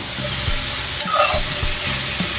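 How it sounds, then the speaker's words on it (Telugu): A ginger, green chili and garlic mixture is stirred in a pan, giving a soft sizzle with a few scraping strokes and clinks of the spoon. "టోటల్గా మనం ఈ అల్లం, పచ్చిమిర్చి, వెల్లుల్లి వీటిలంతటినీ కూడా పట్టేటట్టుగా మంచిగా దీన్ని మిక్స్ చేద్దాం."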